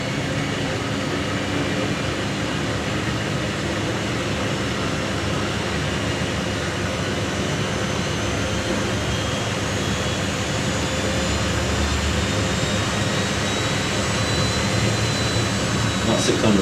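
A Miele W Classic WDA210WPM washing machine on a Minimum Iron 60°C program ramps up its spin from about 250 RPM, a loud steady whirring drone that gradually rises in pitch, with no break throughout.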